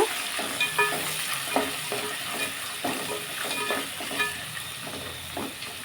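Long-sliced onions fry in a pan for a Kannada vangibath, giving a steady close sizzle broken by repeated scraping stirs of a spoon, with no talk.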